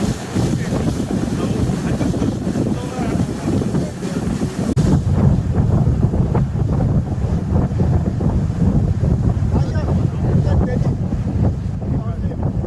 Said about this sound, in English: We waited here for a while before we boarded a flying boat, then our journey to Jaban began.